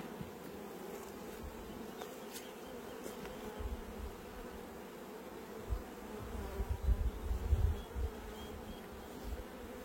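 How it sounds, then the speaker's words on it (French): Honeybees at an open hive hum and buzz close by in a steady drone, with individual bees swelling louder as they pass near toward the end. "il y a des abeilles"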